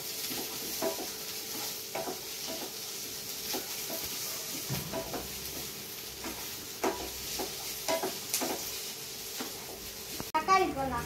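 Garlic cloves frying in a pan, a low, steady sizzle with spoon-stirring clicks and taps, heard softly under a home kitchen's background, ending with a sharper clatter.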